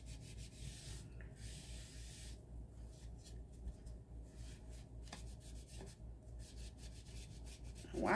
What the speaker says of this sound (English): I am going to go back over with what's left on my rag. And I'm going to wipe it in.